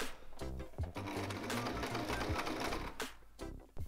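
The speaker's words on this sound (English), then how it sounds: "with the machine on the first step of our buttonhole journey, we are going to try on a bit of material first" A sewing machine stitches a buttonhole on a test scrap of fabric, a steady fast mechanical whir of needle strokes running close and continuous, with brief pauses near the end.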